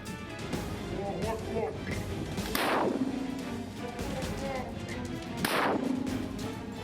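Two heavy booming blasts of 60 mm mortar fire, about three seconds apart, ring out over continuous background noise and faint chatter.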